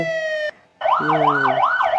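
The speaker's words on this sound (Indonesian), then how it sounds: "Ini namanya suara pemadam kebakaran" A loud electronic fire engine siren, a steady tone breaking off, then a wailing up-and-down yelp repeating rapidly, close and insistent.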